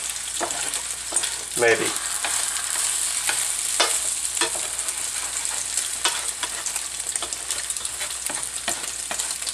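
Pancakes sizzle and fry in a frying pan with a constant crackle, broken by scraping stirs and utensil clatter; a voice briefly speaks once.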